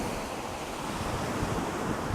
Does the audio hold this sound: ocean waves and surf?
yes